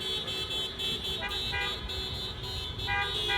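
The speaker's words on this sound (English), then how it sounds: "It seems like the drivers are coming around the corner of McAllister, and they're going to be making their way, as you can hear them beeping off in the distance here." Car horns from protesting Uber drivers honk in short, repeated toots on Polk Street near McAllister in San Francisco, distant and layered over steady street noise.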